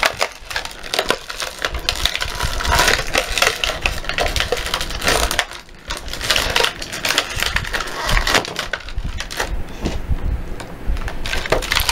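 Small toy figures pulled out of plastic packaging, a continuous close crinkle and crackle of plastic with snaps and tearing, loud throughout with brief pauses.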